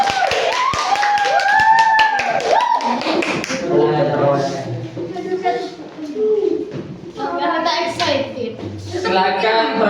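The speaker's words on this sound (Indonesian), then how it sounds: "Tepuk tangan untuk kelompok pangan." Students in a classroom applaud a food-themed group coming to the front, with quick brisk clapping at first that fades into children's chatter and a few thumps.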